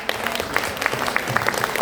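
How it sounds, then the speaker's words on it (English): A leadership summit audience at the InterContinental hotel in Abu Dhabi gives a second round of applause, a brisk, dense burst of clapping with sharp individual claps standing out, loud and continuous throughout. "Give her a second round of applause."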